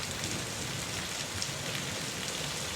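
Steady rain falls continuously and evenly throughout, a dense hiss of drops on a surface with no voices or other sounds.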